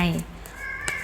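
A short, faint meow from a cat, with a voice speaking over it.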